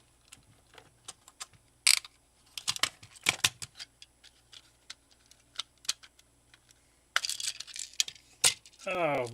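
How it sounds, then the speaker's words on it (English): Buttons spilling out of an opened third-party NES/SNES controller, a burst of small plastic clicks and ticks scattering across a surface, followed by scattered taps and handling rattles. "All the buttons just fell out everywhere."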